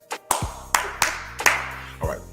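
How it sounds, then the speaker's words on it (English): Several loud, sharp hand claps ring out in an uneven sequence of about six, each a crisp broadband snap, over a faint background with a voice briefly present. "Why did I put a Baptist clap on it, though?"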